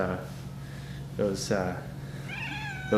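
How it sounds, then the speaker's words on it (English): A cat meows a few times at close range, short plaintive calls over a low steady hum. "This is our cat Luna."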